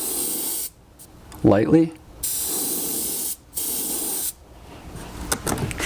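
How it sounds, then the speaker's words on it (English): An airbrush sprays black paint along the back of a pike fishing lure in short hissing bursts separated by pauses, close and fairly loud, with someone speaking briefly between sprays. "the last part of the bait here is just gonna be painting it black on the back"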